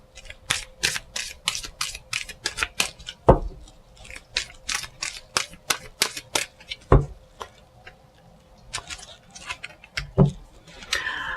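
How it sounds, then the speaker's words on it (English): Tarot cards are shuffled in a run of quick, crisp riffling snaps and flicks at close range, with a few heavier taps and thumps in between and a faint steady hum under it. "I'll give this one more shuffle before we go around."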